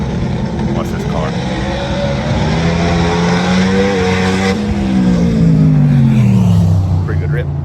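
A Pro Mod drag race car makes a pass at a test session, its engine a loud sustained roar that rises and then falls in pitch as it runs down the track.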